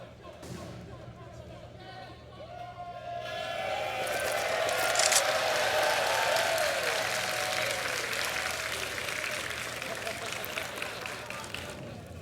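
Crowd at a Counter-Strike esports match on Mirage at ESL Challenger Melbourne 2022 breaks into sustained applause and cheering that swells and holds, with commentators talking over it.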